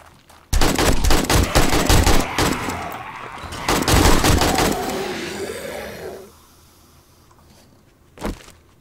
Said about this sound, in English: I'm using my AK.